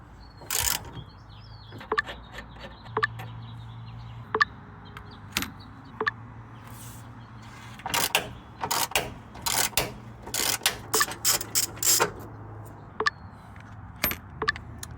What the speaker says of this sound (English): Now to remove the radiator bolts.